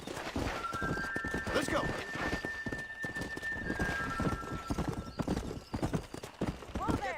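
A horse galloping in the Red Dead Redemption video game, with rapid, loud, rhythmic clip-clop hoofbeats running throughout, a high whistling tone in the background and a voice talking briefly over the hooves.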